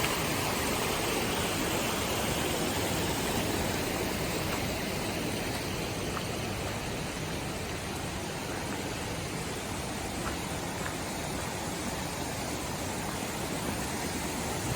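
Constant roaring rush of a waterfall outside Llanberis in Wales, a dense broadband wash of falling water, loud and steady throughout with no talking over it.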